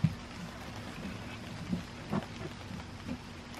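Steady rain falls outdoors in a soft, even wash, with a few faint low knocks and thumps scattered through it and no voices.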